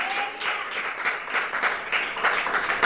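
A church congregation in Jaffna, Sri Lanka claps hands in praise, a steady, dense burst of applause filling the space for about three seconds with no talk over it.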